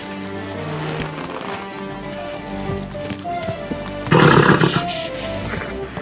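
A horse in a medieval role-playing game snorts and neighs in a loud burst partway through, over layered ambient game sound and a low tonal backdrop, with a brief voice nearby.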